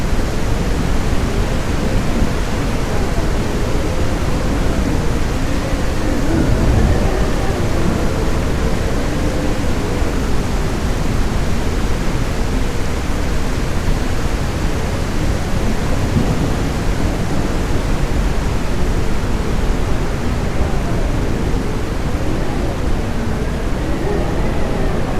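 Heavy rain in a UDS thunderstorm weather simulation roars as a dense, unbroken wash of noise, loud and constant throughout with no voices.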